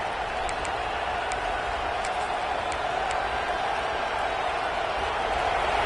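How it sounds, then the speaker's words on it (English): A dense, steady roar of a large video game football stadium crowd, continuous and washing, with faint sharp chirps poking through now and then. "this crowd is fired up. Listen to this noise here."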